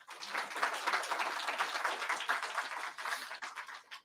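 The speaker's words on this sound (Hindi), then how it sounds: "ऐसों के लिए ताली बजाओ" An audience in a spiritual gathering hall claps steadily and fairly softly, a dense continuous patter that thins out near the end.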